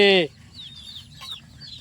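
A single short, sharp cluck from a nearby chicken, followed by faint chirps and quiet background sound.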